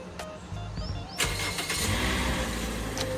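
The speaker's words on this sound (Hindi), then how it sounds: "गाड़ी को करते हैं कोल्ड स्टार्ट" Push-button cold start of an automatic car engine: a quiet lead-in, then the engine catches with a sudden rise into a steady, close idle hum that continues to the end.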